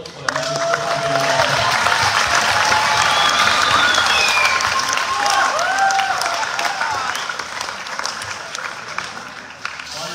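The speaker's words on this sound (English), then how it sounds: "So can we all please have a round of applause" An audience at a Year 12 graduation ceremony breaks into sustained applause, dense clapping that swells and then gradually tapers, with scattered cheers and voices mixed in.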